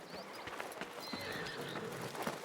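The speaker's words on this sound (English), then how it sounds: "That's some heavily armored horses" Heavily armored horses in Assassin's Creed Mirage, steady clip-clopping hooves with whinnies and neighs close by, continuous over a busy game soundscape.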